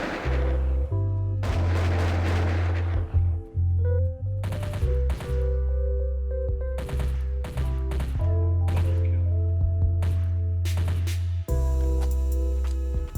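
Gunfire from assorted weapons in an old 3D web-browser zombie shooter game, loud repeated shots and bursts over a steady droning background score, with brief pauses between weapons.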